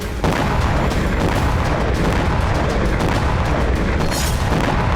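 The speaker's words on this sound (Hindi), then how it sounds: "हमले के बाद भीषण विस्फोट देखा गया" A Russian FAB-500 bomb strike in Kherson during the war in Ukraine: a loud, continuous roaring rumble with crackling bursts, steady for several seconds without voices.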